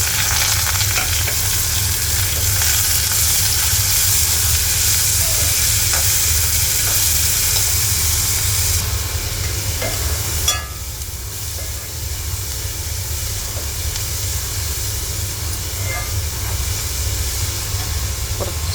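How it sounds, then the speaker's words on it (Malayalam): Sliced onions and shallots sizzle loudly in hot ghee with a dense, continuous frying hiss close by, the tone shifting slightly partway through as they are stirred. "ഇനി നമ്മൾക്ക് അരിഞ്ഞു വച്ചിരിക്കുന്ന സവാളയും ചെറിയ ഉള്ളിയും നെയ്യിലിട്ട് കൊടുക്കാം."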